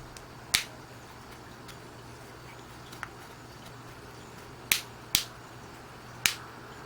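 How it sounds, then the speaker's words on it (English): The plastic back cover clips of a OnePlus One phone pop loose as a few sharp, close clicks. One comes early and several follow in a cluster near the end, over a quiet hum. "when I do this, you'll hear all the clips disengaging"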